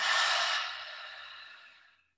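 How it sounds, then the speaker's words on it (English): One long, deep breath during a youth yoga class, a strong airy exhale that fades out slowly over two seconds, close and alone with no talking. "let's take a big, deep breath in and say, inhale, breathe in"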